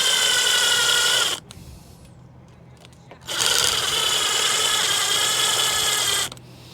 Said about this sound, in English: The next thing we have to do is we have to drill out these rivets.